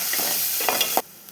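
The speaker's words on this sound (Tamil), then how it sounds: "சாம்பார் தாளிச்சுக்கிட்டோம்." Mustard seeds, cumin, onion, garlic and curry leaves tempering in hot oil for sambar give a steady close sizzle with a few brief crackles and stirring scrapes, then drop away near the end.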